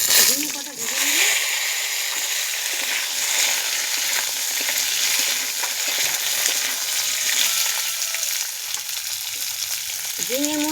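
Ridge gourd fries in hot oil with a loud, steady, broadband sizzle and sputter, a voice speaking briefly at the start and end over the frying.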